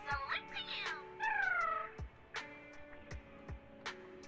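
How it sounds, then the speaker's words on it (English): Cat meowing in the video game Zenless Zone Zero, several drawn-out, rising and falling meows in quick succession over game music and ticking interface sounds, fairly close and clear. "Stupid cat."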